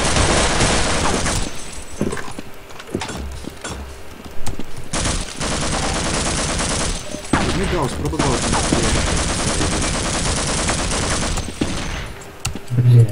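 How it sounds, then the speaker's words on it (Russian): Sustained video-game gunfire in Half-Life aimed at the player, loud dense bursts of shots rattling almost nonstop with brief gaps, as a voice speaks over the action now and then. "Просто чувствую, как он по мне стреляет."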